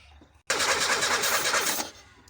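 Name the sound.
car engine starting and revving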